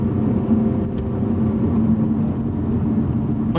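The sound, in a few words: 2018 Lotus Evora 400 engine revving near fuel cutoff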